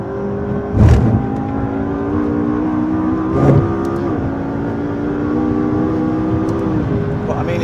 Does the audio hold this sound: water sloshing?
no